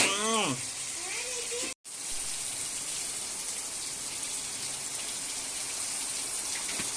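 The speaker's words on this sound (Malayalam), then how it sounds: "നല്ല പെരുമഴയാണ് അടിപൊളി മഴയാണ്" Heavy monsoon rain pours down outdoors in Kerala as a steady, dense hiss. A voice speaks briefly at the start, then after a short cut the downpour continues unbroken and fairly loud.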